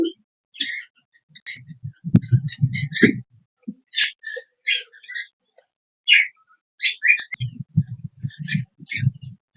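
Pet budgerigars in an aviary chirp in short, bright bursts, some close and loud, while a person speaks intermittently in between.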